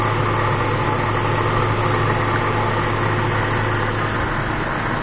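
Toyota FJ Cruiser engine idling steadily with heater running, a constant low rumble and hum throughout, close and fairly loud with no speech.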